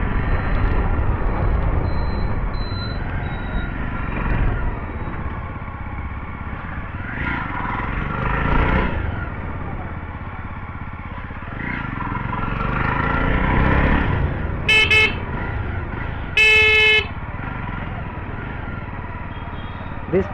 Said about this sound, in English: Now let's ride the bike in some off-road conditions.